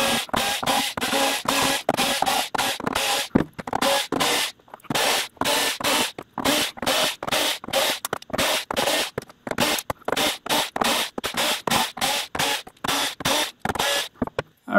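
Screws are backed out one after another from a PS5 Slim Disc Edition console, a steady close run of short scratchy driver turns and ticks repeating in quick rhythm throughout, with no voices.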